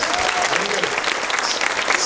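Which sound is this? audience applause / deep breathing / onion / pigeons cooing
audience applause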